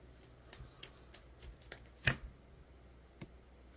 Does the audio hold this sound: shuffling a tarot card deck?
yes